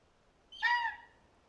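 A single drawn-out bird call, hooting and honk-like, from birds in Final Fantasy 16, loud and close against near silence, lasting about half a second.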